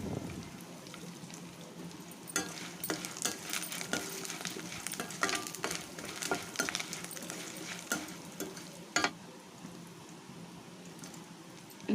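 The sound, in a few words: spices frying in hot oil while making lemon rice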